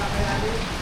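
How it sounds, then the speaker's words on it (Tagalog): Heavy rain pours down steadily outdoors, a dense, continuous wash of drops close by with no break across the short stretch. "Kaibigan, inabot na po tayo ng malakas na ulan."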